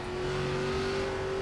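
An ARCA stock car in the iRacing sim drones steadily under acceleration, a strong constant engine tone holding throughout with no speech.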